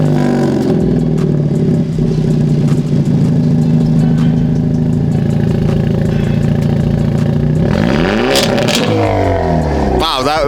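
A Hyundai Elantra N with its resonator removed rumbles loudly at idle and steady revs, then climbs through sharp rising revs near the end, close and continuous.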